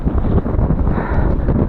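Strong, steady wind roars and buffets the microphone during the 2022 Christmas blizzard, blowing snow into deep drifts; a continuous, loud rush with no pauses.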